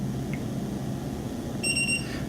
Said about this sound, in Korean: 삐 소리가 3번 들린 게 들리실 겁니다.